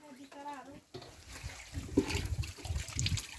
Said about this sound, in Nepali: फुपूले यहाँ लसुनमा पानी हाल्दैछ